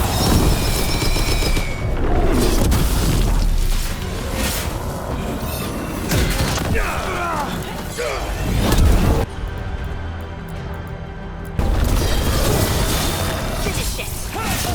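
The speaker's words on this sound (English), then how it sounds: "They've got mortars." Mortar blasts and combat in Dragon Age: The Veilguard, with booming impacts, clanks and crashes layered over battle noise and music, fairly loud and irregular; a voice speaks briefly amid the fight.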